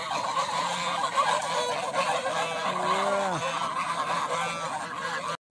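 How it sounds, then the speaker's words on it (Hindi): Waterfowl honk and call repeatedly, loud and near, with a sweeping cry midway over a steady outdoor background. "बड़ा बतख है यार, कितना खूबसूरत नज़ारा बतख की"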